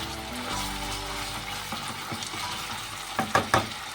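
Onions fry in oil in a pot for pulao, giving a steady close sizzle while a spoon stirs them. A few louder clanks against the pot come near the end.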